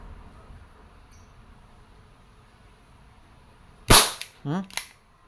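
Crosman SNR 357 dual-ammo airgun fired once, a sharp loud crack followed by a short clatter and a second smaller burst, after several seconds of quiet background.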